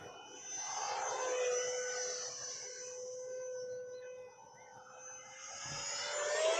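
An E-Flite Habu SS 50 electric ducted fan RC jet flies overhead on a calm day, a steady high whining fan tone that rises and falls as it passes, fairly distant and continuous.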